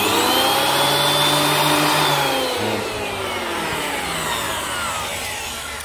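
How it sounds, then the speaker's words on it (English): A DeWalt planer-thicknesser runs steadily as a piece of wood feeds through, a loud continuous whining motor roar with a cutting tone that drifts lower, no voices. "Never put your hands into a thickness planer."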